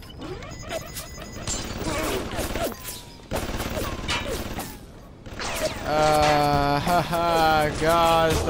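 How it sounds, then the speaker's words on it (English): Gunfire in the BioShock video game, bursts of rapid shots and crashing impacts over a noisy backdrop, with a voice shouting in between. "God, stop shooting at me!"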